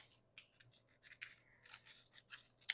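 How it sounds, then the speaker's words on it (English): Quiet, crisp snipping of kitchen scissors, a series of small irregular cuts and rustles, close and faint, with no talking. "I hope everyone has a pair of kitchen scissors."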